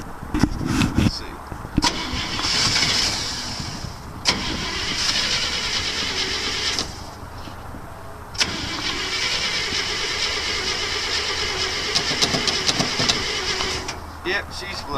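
Flooded engine of a 1968 International 1100B mud truck cranking over repeatedly, a loud steady churn with brief pauses between attempts, close by, with someone talking at points.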